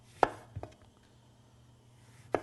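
A knife cutting the caps off oranges on a board, two sharp close chops a moment apart, then a quiet pause and one more chop at the end.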